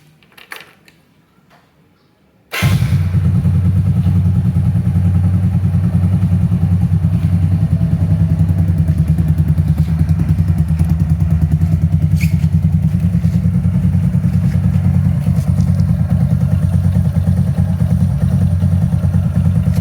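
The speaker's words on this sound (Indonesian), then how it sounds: "Sekarang kita coba nyalakan mesinnya." A 15-year-old Kawasaki Edge motorcycle, slightly smoky, is quiet at first, then its engine starts abruptly after about two and a half seconds and settles into a steady, loud, close-up running rumble.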